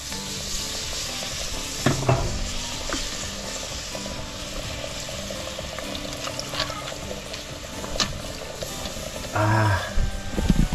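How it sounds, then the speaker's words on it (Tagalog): Coconut milk pours into a pan of frying tilapia, a steady loud sizzle with stirring scrapes, short splashes and clatters breaking through near the start and again at the end. "Lagyan na natin yung gata mga boards."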